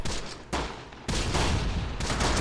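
Machine gun team firing in Close Combat, a dense rattle of overlapping gunfire in loud bursts separated by brief pauses, close and continuous.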